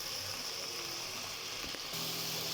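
Vegetables for fried rice sizzle in a hot pan, a steady broadband hiss running continuously and fairly close, with a faint clatter near the end and no talking.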